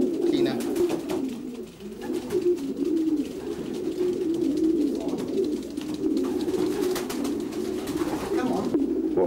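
Racing pigeons coo steadily in a loft, a dense, close chorus of low rolling calls continuing throughout with brief faint voices mixed in.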